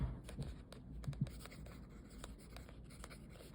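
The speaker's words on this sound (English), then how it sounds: "So we'll write that down just like we did before." Pen or pencil scratching on paper as a tide reference number is jotted down by hand, a steady run of short strokes at close range with no talking.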